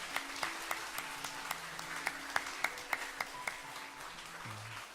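A church congregation claps for new members, with distinct individual claps standing out over a quiet, thin patter of applause, fairly faint and a little distant.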